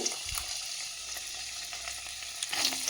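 Food sizzles and crackles in hot oil in a wok over a high gas flame, a steady hissing fry with occasional pops, fairly close.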